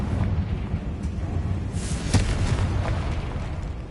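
A Confringo blast spell explodes in Hogwarts Legacy, one sharp burst landing near the middle over a low, rumbling game background, with fainter crackles around it.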